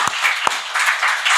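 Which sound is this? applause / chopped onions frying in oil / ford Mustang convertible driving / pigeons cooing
applause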